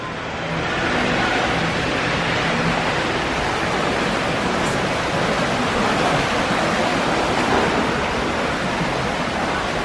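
Steady, loud rush of an indoor river flowing through the lodge lobby at Disney's Wilderness Lodge, a dense continuous wash of water with no talk over it.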